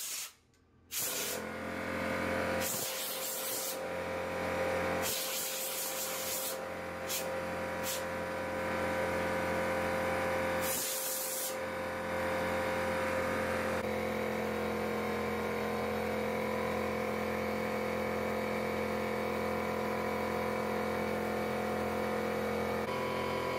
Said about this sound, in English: that was the air compressor, so we'll use a lot of compressed air in this